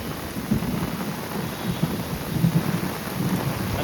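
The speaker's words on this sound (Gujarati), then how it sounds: "વીજળીના કડાકા અને ભડાકા થતા રહે છે" Heavy rain pours steadily during a flood in Surat, with low thunder rumbling in soft bursts beneath the constant hiss of falling water. No one speaks.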